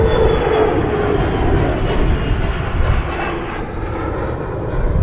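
An airliner taking off from runway 23 at Toronto Pearson Airport, a loud, steady engine roar with a broad rushing rumble that eases slightly midway, heard from a distance with no voices.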